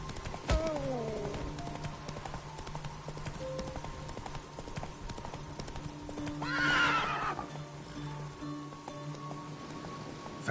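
Roach, the horse in The Witcher 3, gallops with continuous rhythmic clip-clop hoofbeats and whinnies once midway, close up alongside faint ambient rain.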